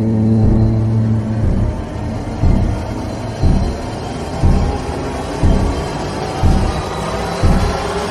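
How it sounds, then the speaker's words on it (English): A car engine in a horror video game rumbles and drives past with periodic low surges, steady background rumble throughout, no talking. "That's just a car driving."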